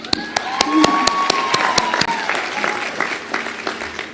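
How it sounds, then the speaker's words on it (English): Graduating class of 2025 applauding themselves at LaGuardia's commencement ceremony, sustained crowd clapping with a few sharp individual claps standing out and faint whistles or cheers rising above it. "Give yourselves a big round of applause."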